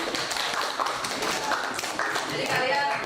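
Pupils in a classroom clap for their classmates, producing quick, uneven clapping and tapping at close range that blends with overlapping voices.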